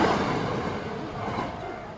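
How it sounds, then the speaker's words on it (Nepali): A passing train makes a steady broadband rumble that starts loud and eases slightly as it moves on, with no voices over it. "train is passing"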